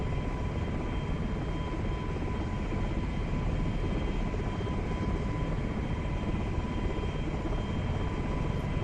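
A helicopter taxis along a runway during basic maneuver training, with a steady, loud turbine and rotor roar and a constant whine holding through the whole stretch and no talk.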